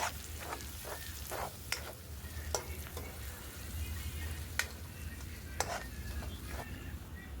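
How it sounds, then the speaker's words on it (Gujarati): Garlic paste and onions frying in oil for pav bhaji, with a spoon stirring through them: a steady sizzle under repeated scraping strokes, some sharp clinks against the pan, close and moderately loud, no talking. "તેને પણ સારી રીતે ચમચાની મદદથી હલાવીને મિક્સ કરી દઈશું।"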